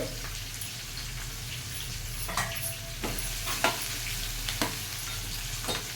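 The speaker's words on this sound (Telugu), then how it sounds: "అటువైపు చేపలు ఫ్రై అవుతుంది" Fish fry in hot oil in a home kitchen pan, with a constant close sizzle and a low hum beneath occasional scraping stirs and light clinks, and no voices.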